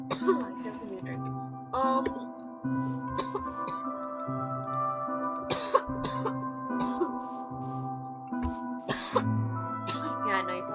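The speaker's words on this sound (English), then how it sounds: "you probably didn't come to this video just to hear a kid coughing all day" A child coughs repeatedly in short bursts during Minecraft gameplay, the coughs fairly close against steady game music and background sounds.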